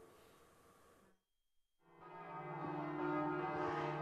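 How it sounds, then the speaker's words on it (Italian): Church bells of Perteole ring at an Easter octave bell-ringing festival, a clear layered peal of sustained tones that cuts off briefly, then returns louder and fuller after a short gap. "le sentite in sottofondo sono le campane di Perteole"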